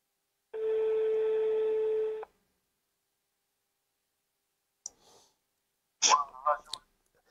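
On a live call-in radio programme, a telephone line emits a steady tone lasting about two seconds, then silence, followed by faint clicks and a brief burst of line noise as the call connects.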